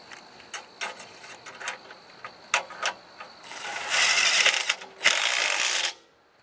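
Socket wrench ratcheting a bolt while a BMW R1200 GS Adventure luggage rack is fitted, a series of close, crisp clicking strokes that speed into fast continuous ratcheting runs before stopping.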